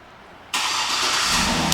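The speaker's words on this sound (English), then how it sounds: "and the car starts right up" A 2007 Cadillac Escalade ESV AWD engine, started by remote start, cranks and catches almost instantly, then settles into a steady, fairly loud idle close by, with no one talking.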